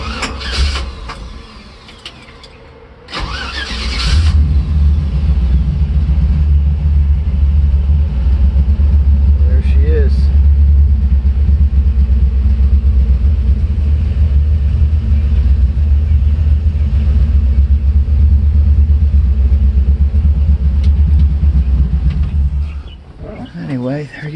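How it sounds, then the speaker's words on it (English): A 1949 Chevrolet pickup with an LS engine and overdrive transmission cranks and fires up, then settles into a loud, deep, steady idle rumble close by before shutting off, with no talking. "the overdrive transmission and the LS motor, nice touch. Fire it up."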